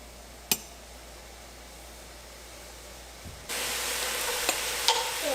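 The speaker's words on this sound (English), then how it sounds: "Time to cook up our apples." Quiet background that turns into a soft, steady sizzle of apples frying in a pan, with a few small clicks and taps nearby.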